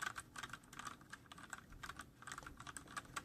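Typing on a Gamdias Hermes mechanical keyboard fitted with TTC switches, a quick, uneven run of close, crisp key clacks with no voices.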